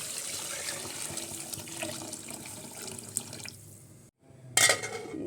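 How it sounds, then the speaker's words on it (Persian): Water pours into a cooking pot as rice is being prepared, a steady splashing stream that runs for about four seconds, cuts off, then ends with a short bright clatter. "1 لیوان آب میریزیم."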